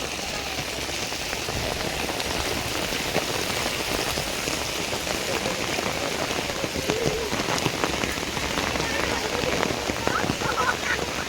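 Heavy rain pours steadily onto surfaces, a dense continuous patter close around, with faint voices now and then beneath it.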